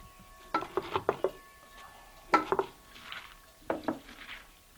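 Shredded cabbage packed and mashed down into a container: close, quiet clusters of squishing, crunching presses with light clatter against the container, coming in three short bursts separated by pauses.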